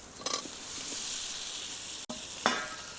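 Fried ash gourd and potato pieces dropped into hot oil and spice masala, a bright steady sizzle with two short bursts as pieces land.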